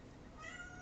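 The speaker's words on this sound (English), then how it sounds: "Sorry, my cat wanted to chime in there." A house cat lets out a single short meow, faint and rising, against quiet indoor background noise.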